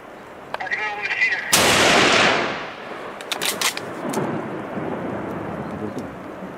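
A single loud gunshot booms out during a wild boar hunt and rolls away over about a second. Rustling and faint outdoor voices follow.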